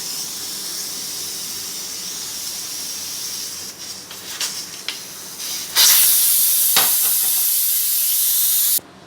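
A pressure cooker holding whole green moong dal is opened in a home kitchen, releasing loud, sharp steam that hisses steadily, rattles and sputters briefly midway, then blasts in a harsher, louder rush until it cuts off.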